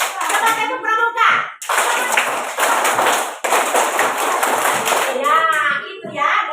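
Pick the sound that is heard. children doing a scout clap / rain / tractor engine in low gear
children doing a scout clap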